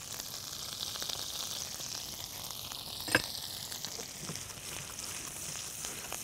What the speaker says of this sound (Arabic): هقلب كده الزبده وخلي الثوم والفلفل يطلعوا فليفر